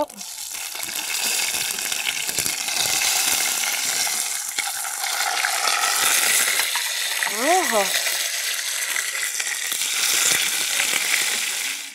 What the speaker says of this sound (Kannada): ಸ್ವಲ್ಪ ಹೊತ್ತು ಎಣ್ಣೆಯಲ್ಲಿ ಎಣಗಾಯನ್ನ ಬೇಯಕ್ಕೆ ಬಿಡೋಣ